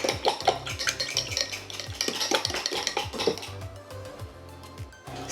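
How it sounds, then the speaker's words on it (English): A fork briskly mixes sun-dried tomato puree in a bowl, giving rapid, close clinking and scraping strokes of metal against the dish in a steady rhythm, with no talking. "So get a fork and give it a mix."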